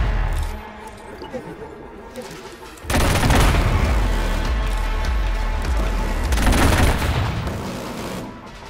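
Gunfire from a weapon in the video game Killzone: Shadow Fall, sustained rapid bursts with booming impacts that erupt suddenly and keep going, loud and close, with someone talking over them.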